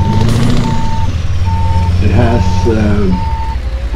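A Scania V8 truck engine in Euro Truck Simulator 2 rumbles steadily at idle, low and constant, while a reversing beeper chirps in regular pulses and someone talks over it.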